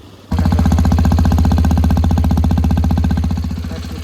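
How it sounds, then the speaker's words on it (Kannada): A Hero Xpulse 210 motorcycle engine idles close by with a fast, even tapping pulse running through its steady rumble, easing slightly toward the end. "ಇಂಜಿನ್ ಸೌಂಡ್ ಒಳಗೆ ಒಂದು ಟ್ಯಾಪಿಂಗ್ ಅಂತ ಬರುತ್ತೆ"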